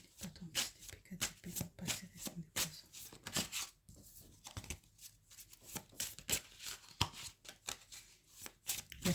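Tarot cards being shuffled in a series of quick crisp riffles and soft slaps, close and fairly quiet, running steadily throughout with brief pauses between bursts.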